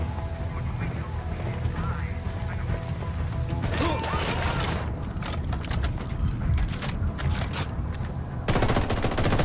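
Gunfire erupts in Ghost Recon Wildlands as a squad opens fire, rapid bursts and single cracking shots over a loud battle din, with players talking and calling out.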